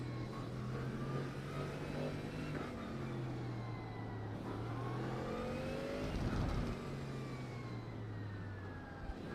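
A Mustang GT3 race car in the iRacing video game drones steadily at high revs, its engine pitch rising and falling through gear changes, with another car's engine layered in close and continuous throughout, no speech.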